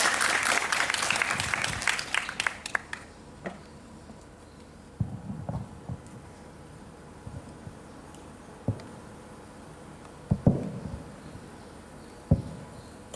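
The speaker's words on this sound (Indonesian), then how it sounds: "Tepuk tangan untuk kita semuanya." Audience applause at a socialization gathering in a modern Islamic boarding school, a dense burst of clapping for the first three seconds that quickly dies away, leaving a quiet room with scattered thumps and faint rustles.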